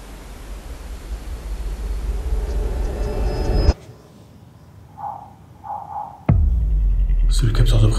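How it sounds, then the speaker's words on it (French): Loud rushing noise cuts off abruptly, then two short electronic beeps from a motion sensor alarm sound faintly before another loud burst of noise. "C'est le capteur de présence qui vient de sonner."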